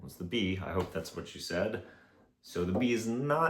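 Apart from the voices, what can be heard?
No everyday noise stands out behind the speech.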